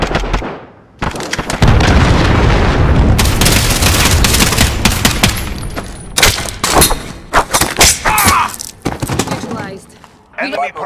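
Cruise missile strike explosions in Call of Duty Modern Warfare roll out as a loud, dense barrage of booms and gunfire-like blasts, with a burst of sharp detonations and cracks near the end.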